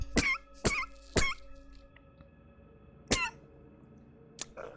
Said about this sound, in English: And then there's the coughing fit